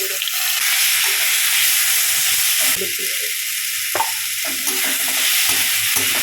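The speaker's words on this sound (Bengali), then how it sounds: "কড়াইয়ের মধ্যে সরষের তেল দিয়ে দেবো দেবো দুটো শুকনো লঙ্কা একটু পাঁচ ফোড়ন ভাজা ভাজা হয়ে গেছে" Dried red chillies and panch phoron spices fry in mustard oil in a kadai, giving a loud, steady sizzle and hiss with occasional stirring clatter, close up and without talk.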